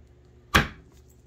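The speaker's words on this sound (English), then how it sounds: "Let's cut it up and see how it looks on the inside." A block of cold process soap is sliced once, giving a single short, crisp cutting thud against a quiet background.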